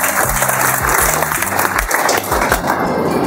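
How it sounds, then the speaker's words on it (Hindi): Loud enthusiastic applause from a seated audience of farmers at a business seminar, dense rapid clapping sustained throughout at close range, with no speech over it. "एक बार किसान भाइयों के लिए जोरदार तालियां हो"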